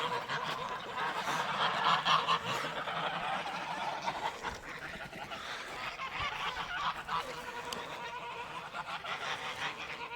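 A flock of geese, a Chinese goose among them, honks continuously outdoors at moderate distance, calls overlapping into a dense, unbroken clamour with no gaps.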